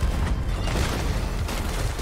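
A ship's cannon fires in a pirate galleon video game, a dense booming blast with rumbling noise filling the whole two seconds, loud and close.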